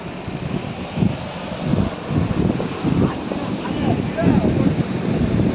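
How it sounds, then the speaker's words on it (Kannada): Water pouring over a village dam in Gokak, a broad steady rushing roar with gusty surges, heard outdoors with wind buffeting the microphone and no clear talk. "ನೋಡ್ರಿ ನೀರು ಅಣಕಟ್ಟು ಹರಿಲಾಕತ್ತೈತೆ ರೋಡ್"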